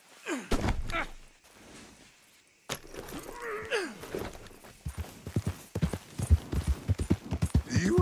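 Hooves clip-clop from a horse in the Western video game Red Dead Redemption 2, a quick run of sharp, fairly close hoofbeats building in the second half after a brief lull, with other game sounds around them.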